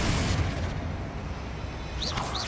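A Confringo fire spell in Hogwarts Legacy bursts with a broad, booming blast at the start, then the roar fades into a rumbling tail, with a short bright swish near the end.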